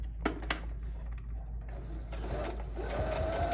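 A sewing machine fitted with an invisible zipper presser foot stitches fabric. A few sharp clicks come first, then a steady mechanical whir runs close and fairly loud, with no one talking.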